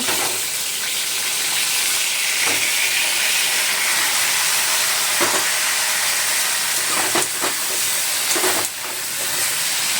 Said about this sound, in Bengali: আমি পটলগুলো কড়াইতে দিয়ে দিলাম ভাজার জন্য।